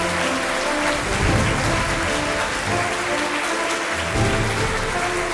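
An audience at an award ceremony claps steadily in a dense, continuous round of applause that stays loud throughout with no voices on top.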